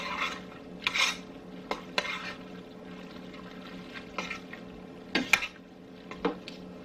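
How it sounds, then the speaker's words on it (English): A spoon scrapes and knocks against a pot as cheddar cheese is stirred into a one-pot cheeseburger casserole, producing soft, intermittent clinks and sloshing stirs at close range with no talk. "I'm gonna do a little bit at a time and stir it in."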